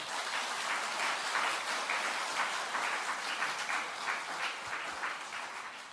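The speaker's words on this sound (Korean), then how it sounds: "우리 이분들께 축하의 박수 한번 쳐드립시다." A church congregation at a Sunday afternoon remodeling thanksgiving service applauds in congratulation, a broad, continuous wash of clapping that sounds somewhat distant and holds steady before easing slightly at the end.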